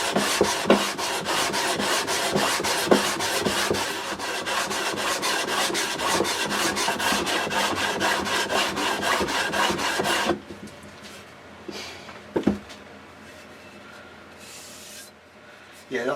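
Steady rhythmic rasping of sandpaper worked by hand over a wooden guitar body, close and continuous for about ten seconds, then stopping into quieter handling noises with a brief bump.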